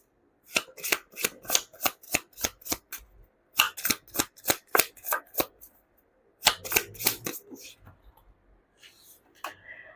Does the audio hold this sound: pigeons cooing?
no